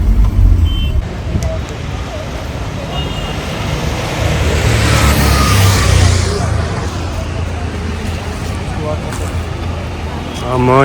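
Road traffic in Manali during a heavy jam, with a steady rumble of idling and passing vehicles and a faint beeping. Talk is heard over the traffic.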